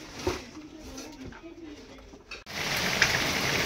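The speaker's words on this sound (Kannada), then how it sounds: "ಮಳಿ ಬರಾಕತ್ರಿ" Rain falls outdoors, a soft patter that suddenly grows into a dense, loud hiss of downpour halfway through.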